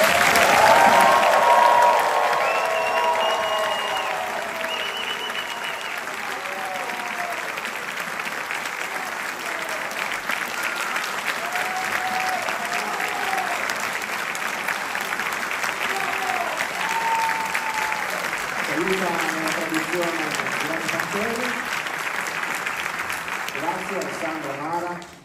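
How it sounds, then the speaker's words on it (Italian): Theatre audience at the Teatro del Giglio applauding a live show, long sustained clapping that swells at first and then continues steadily, with voices speaking over it. "vi chiedo di fare un grandissimo applauso per il sensei Naoki Urasawa!"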